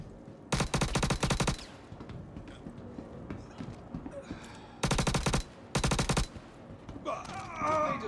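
Automatic gunfire in a video game, loud bursts of rapid shots: one long burst near the start, then two shorter bursts later, over a busy game background with hoofbeat-like clatter.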